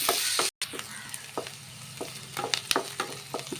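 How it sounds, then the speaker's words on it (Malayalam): Ivy gourd being sautéed in oil, a soft continuous sizzle with a series of sharp spatula scrapes and taps against the pan as it is stirred, close by. "ഇളക്കിട്ട് നല്ലോണം എണ്ണയിൽ നല്ലോണം ഒന്ന് വഴങ്ങോട്ടെ"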